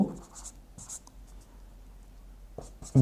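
Chalk writing on a classroom board makes a few short, faint scratchy strokes, with soft taps and thuds in between, close by.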